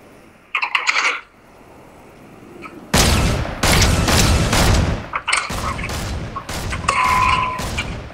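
Gunfire in the Fortnite video game, with a short early burst followed by dense, loud volleys of rapid shots and sharp impacts that come in clusters with brief gaps, running to the end.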